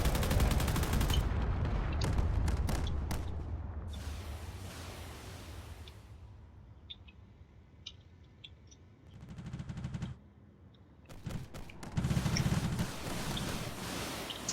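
Bursts of rapid gunfire and heavy booming explosions, loud and dense at first, easing to a quieter stretch, then erupting again in sharp volleys near the end.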